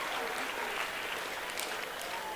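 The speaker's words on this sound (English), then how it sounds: "Give her a round of applause." Dense, steady applause from the crowd at the Finke Desert Race 2024 presentation greets the women's class winner, a continuous wash of clapping that holds evenly throughout.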